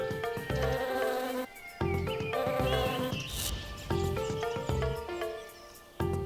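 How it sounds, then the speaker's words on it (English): A bumblebee buzz-pollinates a flower, its wings giving a close, droning buzz that swells and dips in pulses beneath a layer of music. "This is buzz pollination, the release of pollen in response to the ultrasonic vibrations of a bumblebee's wings."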